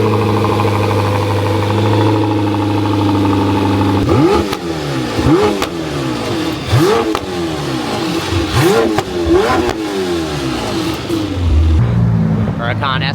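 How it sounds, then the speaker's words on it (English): A Lamborghini Huracan STO passes by, its engine revving hard in a series of rising and falling blips after a steady drone, loud and close, with voices underneath. "Huracan STO coming through."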